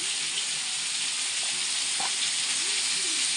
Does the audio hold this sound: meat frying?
yes